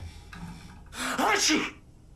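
A single loud sneeze in the video game Alan Wake Remastered, with a sharp intake before it, close up, set against faint background noise.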